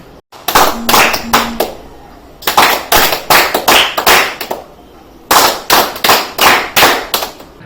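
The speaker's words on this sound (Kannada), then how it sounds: "ಚಪ್ಪಾಳೆ ತಟ್ಟಿ ಜಾಗಟೆ ಬಾರಿಸುವುದರ ಮೂಲಕ" Crowd clapping to honour health workers during the coronavirus outbreak, with loud, rhythmic bursts of hand claps coming in three close runs separated by short pauses.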